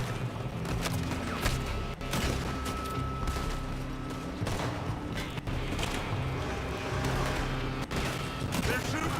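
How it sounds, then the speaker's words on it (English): Sustained gunfire in Red Dead Redemption 2, dense overlapping shots and bursts rolling continuously at close range, with voices talking over the battle. "They're shooting from that building."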